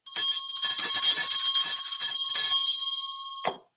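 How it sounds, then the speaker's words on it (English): A hand bell rings continuously and loudly for about three and a half seconds with rapid, clanging strokes, then cuts off abruptly. "Where's my bell?"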